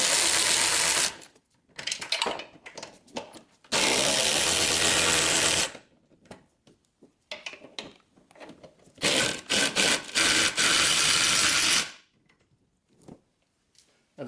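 A power tool removes the three top strut bolts on a 2025 Ford F150 during a leveling kit install: three loud, sustained whirring bursts of a few seconds each, separated by quieter clanks and handling noise, close by.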